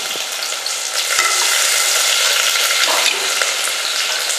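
Chopped ginger and green chillies fry in hot oil in a pressure cooker for wheat rava vegetable pongal, a loud, continuous sizzle close up with a few stirring clicks and no talking.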